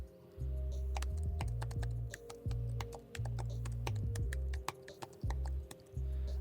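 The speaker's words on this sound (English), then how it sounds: "Let me just give you a typing test." Quick keystrokes clatter on an ASUS ZenBook S 13 OLED UX5304 laptop keyboard, close and crisp in bursts, over a steady low electrical hum.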